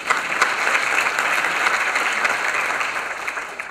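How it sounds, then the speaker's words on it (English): Faculty at an opening university meeting applaud a newly introduced colleague, a steady, full round of clapping from a sizable room that holds level throughout with no voices over it. "we'll clap for him anyways"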